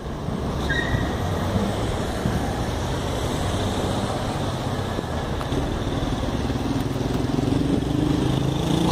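A BRT Norte-Sul bus approaches along Rua 90 in Goiânia, a steady engine drone and road rumble that builds gradually over constant street noise.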